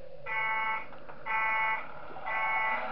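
Alarm in the video game Five Nights at Wario's blares in three steady pulses, each about half a second long, a loud electronic buzz with brief gaps between, over a faint background hum.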